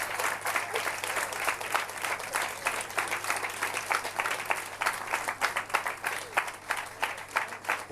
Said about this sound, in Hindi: सब ताली बजाओ।